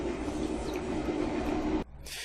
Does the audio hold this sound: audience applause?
no